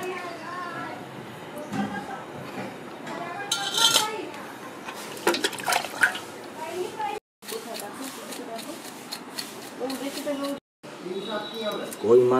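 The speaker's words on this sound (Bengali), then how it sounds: "আগে আমি মাছটা কেটে দিচ্ছি।" Freshly bought live native koi fish being cut with a knife in a home kitchen for a curry, with knocks, scrapes and clinks of a blade and metal dishes alongside steady talking.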